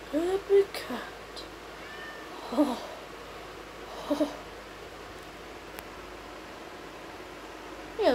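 Cat meowing in short, fairly close calls repeated every second or two against a quiet background hiss, with a person speaking to it at times.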